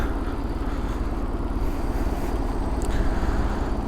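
A motorcycle with a freshly repaired clutch cable runs close by, a steady rumbling engine note that holds at a constant level without clear revs.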